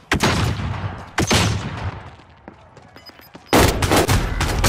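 Loud, close gunshots from Call of Duty: Warzone Pacific come in several heavy bursts separated by quieter stretches with faint distant shots, and a strong final volley closes the clip.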